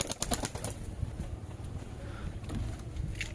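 Giribaz and Madrasi pigeons at a home loft, wings flapping in quick bursts at the start and again near the end, with a low, rumbling backdrop that may carry soft cooing.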